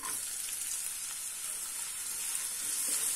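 Chopped onions going into hot oil with garlic for besan gatte sabzi, giving a steady, close, loud sizzle and crackle of frying with no talking.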